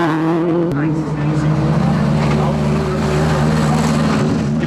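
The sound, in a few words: rally car driving at full speed, 2005 WRC Mexico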